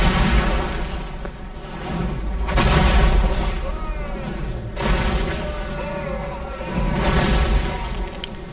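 Rock lobber siege artillery landing hits during a Total War Warhammer battle between Greenskins and Dwarfs, heavy rumbling impacts swelling and fading several times over a constant dense battle din.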